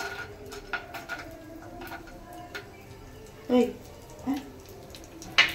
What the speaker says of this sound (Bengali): জিরে দিলে কাজু কিশমিশটা একটু ভাজা ভাজা হয়ে যাবে, তাই জন্য দিয়ে নিচ্ছি ঘিয়ের মধ্যে